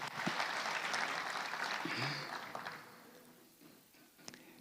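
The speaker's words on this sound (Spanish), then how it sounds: "Es un aplauso para el equipo de intercesión que nos cubre" Congregation applauding in a church service, a broad wash of clapping that starts fairly full and thins out toward the end, heard from a distance and quiet overall.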